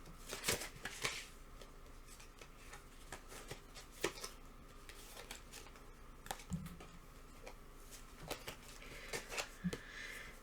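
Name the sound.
shuffling oracle cards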